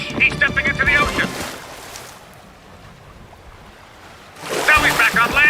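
A cartoon duck steps into the ocean as a soft wash of waves rises between talking, the surf noise filling the gap before the voices return.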